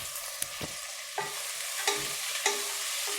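Onions with salt sautéed in a pan, a soft continuous sizzle punctuated by four or five distinct stirring scrapes, close but fairly quiet, no speech.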